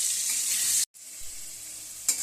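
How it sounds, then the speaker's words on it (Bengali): Potatoes browning in hot oil for egg pulao give a steady, bright, close sizzle that cuts out for a moment, then carries on with a short sharp flare near the end. "আলুগুলো ঠিক আগের মতো লাল লাল করে একটু ভাজতে হবে"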